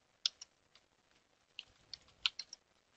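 Quiet, close computer keyboard typing of a MySQL command in an Ubuntu terminal: scattered light clicking keystrokes in short irregular bursts, alone with no talk.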